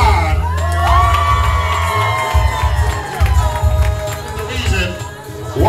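Wedding guests cheer, whoop and shout together in a lively indoor reception room, a loud continuous crowd din with music and voices mixed in.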